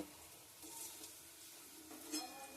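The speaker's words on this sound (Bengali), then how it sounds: "লো ফ্লেমে দিয়ে আমি কিন্তু ভেজে নেব" Soft, steady sizzling of food frying in a little oil on a gas stove over a low flame, quiet and continuous, with a faint scrape of stirring near the end.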